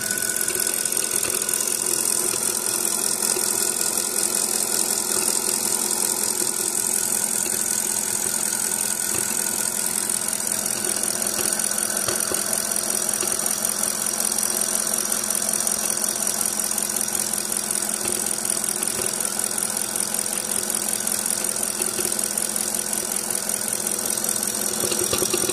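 A 2007 Mercedes S550 with a misfire idles continuously nearby, giving a steady low rumble with faint uneven knocking and rattle throughout and no talk.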